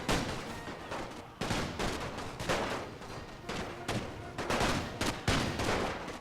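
Massed rifle and artillery fire from units in a First World War strategy game battle: dense, continuous volleys of overlapping gunshots and booms, loud and sustained with sharp bursts throughout.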